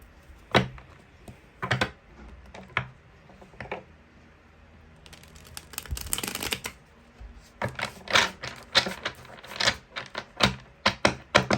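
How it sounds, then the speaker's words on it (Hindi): Tarot cards being shuffled and drawn during a reading: bursts of riffling flutter alternate with sharp individual card snaps and slaps, close and fairly quiet, with no talk. "चलिए देखते हैं, बाकी के कार्ड्स निकालते हैं।"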